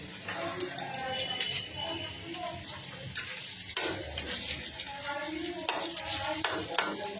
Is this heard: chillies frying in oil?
yes